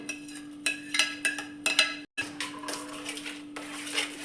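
A spoon scrapes and knocks in a pan as jackfruit pulp and grated jaggery are mixed, with irregular metallic clinks and stirring scrapes over a steady background hum.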